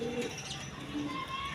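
A big male fancy pigeon coos softly in a short, faint burst amid a market setting, with low background chatter.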